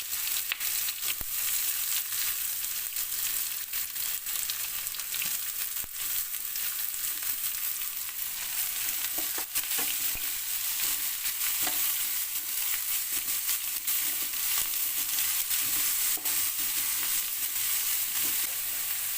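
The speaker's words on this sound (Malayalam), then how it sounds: "ഇനി നമുക്കിതിലേക്ക് അരിഞ്ഞു വെച്ചിരിക്കുന്ന സവാള ഇട്ട് കൊടുക്കാം" Sliced onion sizzles in hot oil in a pan, a steady close frying hiss with soft clicks and scrapes of stirring throughout, no voices.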